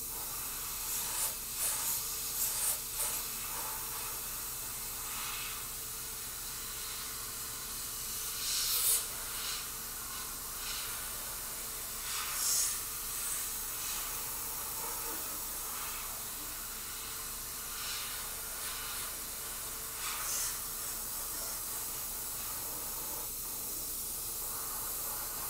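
An airbrush sprays paint along the edge of a bottle, a continuous close hiss that swells in short bursts of heavier spray over a long, steady stretch, with no voices.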